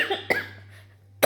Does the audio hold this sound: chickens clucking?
no